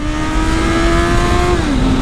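A Honda CB1000 motorcycle engine revs hard in first gear in a loud, sustained, steady drone close by, with the pitch holding and then dipping slightly near the end.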